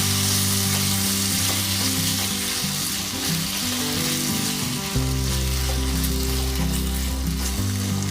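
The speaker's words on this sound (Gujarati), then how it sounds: "જે ટામેટાના ટુકડા કર્યા હતા તે એડ કરી દઈશું અને આપણા ટામેટાં એકદમ મેલ થાય ત્યાં સુધી આપણે એને સાંતળી લઈશું" Tomato pieces sautéing with red chillies in a pan for a sweet and sour tomato chutney, a loud continuous sizzle with stirring scrapes throughout, close and alone.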